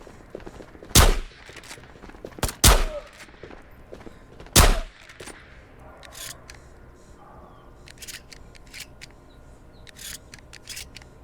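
Three loud, sharp shotgun blasts from a 590A1 in the VR game Ghosts of Tabor, spaced about two seconds apart, followed by quieter mechanical clicks and rattles, likely the pump action.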